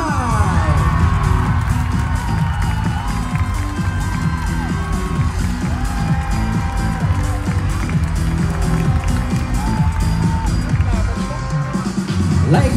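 A large audience roars and cheers loudly at the Miss Grand Thailand 2022 pageant as contestants are announced. The sustained, dense crowd noise carries shouts and whoops, with an announcer's voice running underneath.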